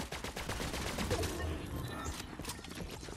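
Gunfire crackles in a Fortnite match, a run of sharp cracks and bursts scattered across the moment amid busy game noise, with hints of nearby chatter.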